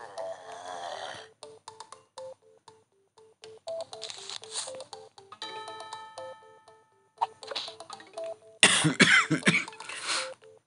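A person with a cough and cold coughs and clears their throat several separate times, breaking up quiet stretches, with a sharp, harsh burst of coughing near the end; a faint ticking runs underneath.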